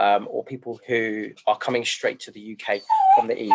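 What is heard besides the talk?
puppy whimpering and yipping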